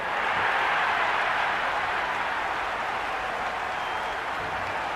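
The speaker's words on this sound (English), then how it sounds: "the crowd have joined the party. It's pretty noisy at the ground" Steady broadband crowd roar fills a cricket ground in the Cricket 26 video game during an IPL match, a continuous wash of massed noise with no distinct claps or voices standing out.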